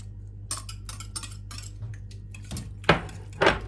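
A spoon clinks and scrapes against a mixing bowl while yogurt is added to a gluten-free cake bread batter, in a series of close, light taps with a louder clatter near the end, over a quiet kitchen hum.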